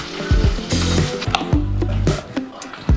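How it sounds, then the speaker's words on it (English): Bacon sizzles and pops in a greasy pan, with loud bursts of crackling and spatter, some thumps and scraping, heard up close. "I'm cooking my bacon and I just did the second batch"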